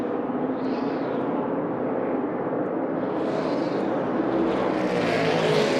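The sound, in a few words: NASCAR stock car with a flat-sounding engine passing by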